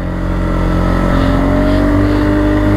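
Polaris and Kawasaki Brute Force ATVs climb a steep snowy hill at full throttle, their engines roaring loud and close in a sustained rising rev, with no voices over them.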